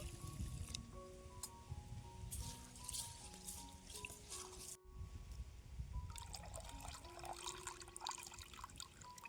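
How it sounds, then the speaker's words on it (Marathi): Rice being rinsed in water, continuous close sloshing and trickling with drips, quiet, alongside faint steady tonal hums in the background and no talk. "दोन तीन पाण्याने धुवून घ्यायचं आहे"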